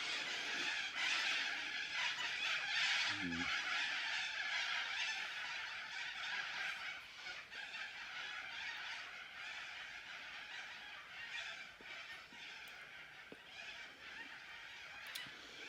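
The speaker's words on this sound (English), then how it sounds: "It's really set the birds off." Many birds squawk and honk together after nearby fireworks in a noisy, continuous chorus, loud at first and gradually easing.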